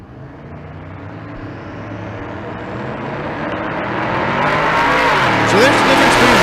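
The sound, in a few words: drag race: twin turbo LS vs naturally aspirated big block Chevrolet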